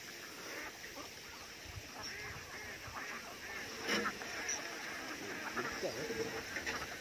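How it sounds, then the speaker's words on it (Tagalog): A flock of ducks sheltering from the heat near a rice field quacks and honks faintly in the distance under steady outdoor background noise, with a voice speaking at times. "Ayun, ang daming itik."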